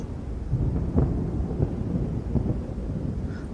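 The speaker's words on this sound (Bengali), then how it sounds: "বৃষ্টি নামেনি এখনো কিন্তু ঝিরঝিরে শব্দ যেন দূর থেকে ভেসে আসছে" Distant rumbling thunder under a steady wash of light drizzling rain, a cartoon-style storm effect with a low continuous roll and a few soft swells, no voices.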